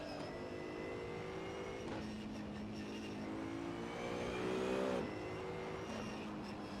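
A car driving in the Assetto Corsa racing game on a Barcelona city circuit, its engine droning steadily with the pitch shifting through gear changes and a brief louder surge near the end, heard from the cockpit.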